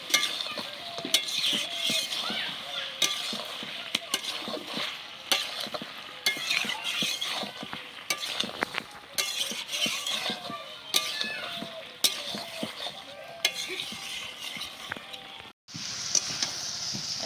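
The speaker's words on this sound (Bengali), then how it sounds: "তারপরে বেশ খানিকক্ষণ আবার কষিয়ে নেব।" Chicken being stir-fried in a pan with fried kohlrabi and potato, a steady close sizzle under repeated scraping and stirring strokes, with light clinks of a utensil against the pan throughout.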